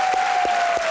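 Studio audience applause on a TV comedy show: a brief burst of continuous crowd clapping with a steady tone running underneath.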